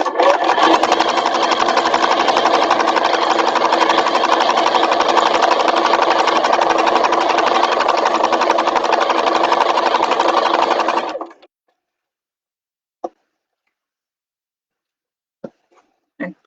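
A home sewing machine stitches a fabric bag in one loud, steady run lasting about eleven seconds, then stops abruptly; a few faint taps and small handling sounds follow in the quiet.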